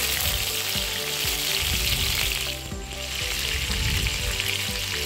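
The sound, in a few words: pointed gourd (potol) frying in mustard oil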